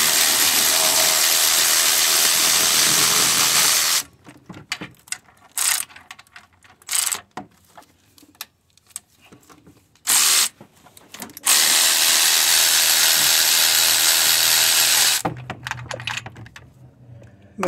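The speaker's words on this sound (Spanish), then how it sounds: "Cuando va a quitar los tornillos, así con la matraca." A ratchet wrench turns the bolts on the alternator of a 2007 Ford Explorer 4.0, giving loud, close bursts of rapid clicking that start and stop between quiet pauses and shorter spurts.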